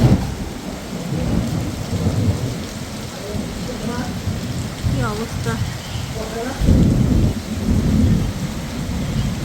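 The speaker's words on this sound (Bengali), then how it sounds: "বছরের প্রথম যে বৃষ্টি নামছে প্রচুর পরিমাণে এই যে এই বছরের প্রথম দেখেন কেমন বৃষ্টি চমকাইতেছে" Heavy first rain of the year pours down with rolling thunder rumbling throughout, a dense steady wash of rain under low booms, while a person talks briefly.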